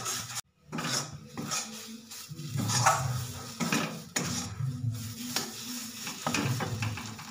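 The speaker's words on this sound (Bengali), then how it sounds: "এভাবে অনবরত নাড়তে থাকতে হবে, আস্তে আস্তে শুকাতে থাকবে।" Pointed gourd paste is stirred and scraped in a pan in a steady run of close, loud strokes, a spoon clattering against the metal over a soft sizzle, with a short pause near the start.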